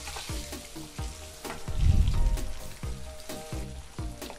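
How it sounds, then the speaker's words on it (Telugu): Boiled eggs fry in hot oil in a pan for an egg and capsicum curry, a steady sizzle broken by repeated sharp pops and scraping stirs, close and fairly loud with no voices. "ఆయిల్ కాగిన తర్వాత ఇందులో మనం ఉడికించి పెట్టుకున్న ఎగ్స్ని చేసుకుని ఒక 5 నిమిషాల పాటు వేయించుకోండి"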